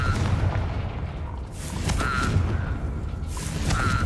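Explosive Confringo spell blasts from the game Hogwarts Legacy, several booming bursts with crackling tails spread across a few seconds, loud and close with no talk over them.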